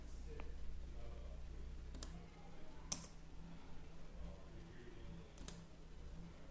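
A few sharp, scattered computer mouse clicks, spaced irregularly over steady low room hum with no talk.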